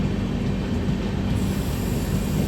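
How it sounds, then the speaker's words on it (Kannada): Train rolling into Hubballi while overtaking the Siddhaganga Intercity, a steady close low rumble of wheels and carriages on the rails with no talk. "ನಮ್ಮ ಸಿದ್ಧಗಂಗಾ ಇಂಟರ್ಸಿಟಿ ಓವರ್ಟೇಕ್ ಮಾಡ್ತಾ ನಾವೀಗ ಹುಬ್ಳಿಗೆ ಎಂಟ್ರಿ ಆಗಿರ್ತೀವಿ"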